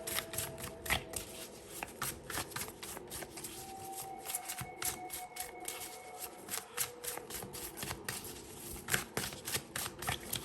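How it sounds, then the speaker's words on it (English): Steampunk Tarot cards are handled and shuffled close by, a steady run of soft riffling slaps and flicks in an irregular rhythm, with a faint tone humming in the background. "I'm gonna be using the Steampunk Tarot, and these two cards are, I believe, from Golden Foil Tarot."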